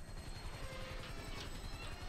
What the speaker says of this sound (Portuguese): Olha lá o helicóptero trocando sozinho.